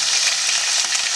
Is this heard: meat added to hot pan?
yes